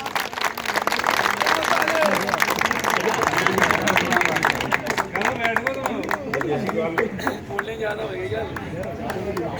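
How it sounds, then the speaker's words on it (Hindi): Enthusiastic applause from a gathered crowd for an honoree at a Holi song award event, dense clapping with crowd noise and voices, thinning into scattered individual claps toward the end. "इनके लिए जोरदार तालियां"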